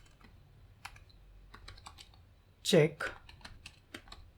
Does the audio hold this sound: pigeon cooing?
no